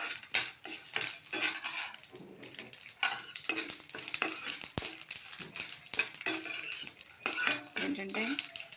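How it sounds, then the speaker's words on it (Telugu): Cumin, dried chillies, curry leaves and cashews tempering in hot oil in a pan, with close clattering of a metal spoon against the pan over a steady background sizzle. "జీలకర్ర, ఎండుమిర్చి వేసాను, కరివేపాకు వేస్తున్నాను, చివరిని వేస్తున్నాను జీడిపప్పు,"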